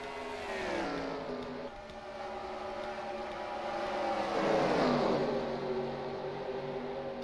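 Race car engines in a racing video game whine steadily. Their pitch rises and falls as the cars speed up and lift off, with one engine swelling louder near the middle before easing back.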